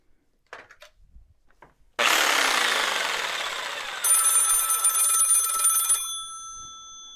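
A power saw cuts a strip of Homosote fiberboard roadbed in a shop, with a few light handling knocks before a loud, steady, whining cut of several seconds that gains a sharper ringing tone before it stops and the sound fades out.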